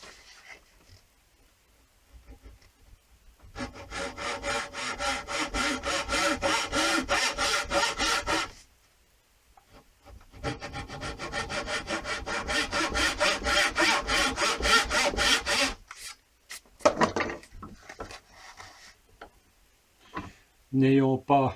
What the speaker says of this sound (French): je suis en train de couper les angles pour mes marches et mes contre-marches